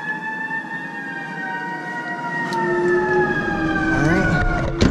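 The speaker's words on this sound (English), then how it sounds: "there's the ambulance coming through here." A siren wails nearby, its tone sliding steadily downward as the vehicle passes, with engine rumble growing louder underneath.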